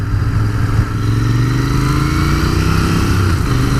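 A 2019 Royal Enfield Continental GT 650 twin on its stock exhaust rumbles loud and close under way, its engine note rising and falling slightly with the throttle.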